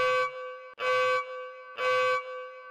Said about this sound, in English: Just a small bit of time between each siren sound.